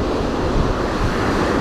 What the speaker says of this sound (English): there's one or two of these waves here, they're quite big